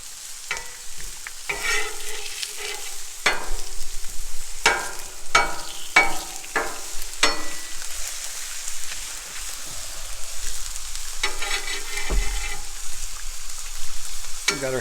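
Pepperoni and a thin crust pizza frying on a Blackstone griddle, a steady close sizzle broken by repeated sharp scraping and clacking strokes of a spatula, with no voices.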